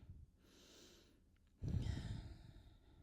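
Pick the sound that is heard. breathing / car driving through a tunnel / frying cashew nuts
breathing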